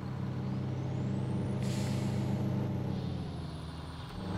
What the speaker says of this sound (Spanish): Vamos a darle arranque para ver qué tipo de sonido tiene este